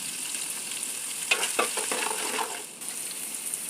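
Chopped onions sizzling in hot oil in a pan for tuna curry, with a steady frying hiss and a brief burst of stirring and scraping from a spoon partway through, close and moderately loud.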